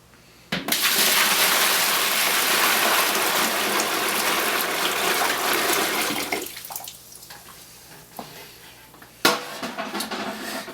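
Hot strike water gushes loudly and steadily into a mash tun for several seconds while brewing an all-grain stout, then stops, leaving quieter trickles and a brief splash near the end.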